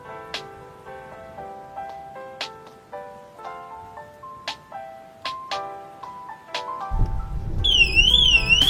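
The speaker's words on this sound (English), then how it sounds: "Factory fitted alarm going first" A factory-fitted VW Transporter van alarm sounds a repeating series of electronic tones, rising in loudness, then a warbling siren kicks in near the end over a low rumble.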